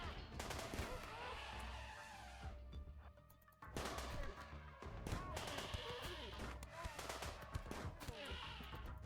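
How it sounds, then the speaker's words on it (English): Colonists firing guns during a RimWorld raid battle, steady bursts of shots and impacts in busy game audio, continuous and fairly dense with brief lulls. "East, can you go over here and start shooting at some people?"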